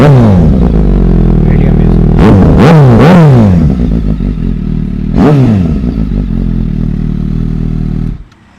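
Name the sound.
Suzuki GSX-S 750 motorcycle with SC Project exhaust revving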